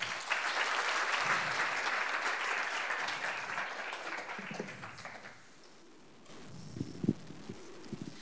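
Audience applause after a science lecture on machine learning, a dense steady clatter of many hands lasting about five seconds, then fading out into quiet room tone and a few scattered claps.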